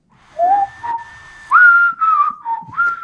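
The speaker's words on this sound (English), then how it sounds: "Do you want to hear me try to whistle a tune?" A person whistles a short tune alone, a clear wavering melody of a few sustained and sliding notes with brief gaps, close and fairly loud.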